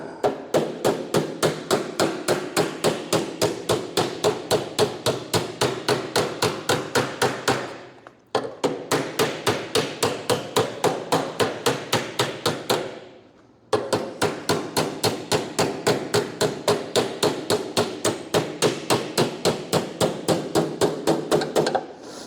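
Rapid steady hammer blows folding over the flange of a classic Ford car panel during reskinning, sharp close metallic strikes in long even runs broken by two brief pauses.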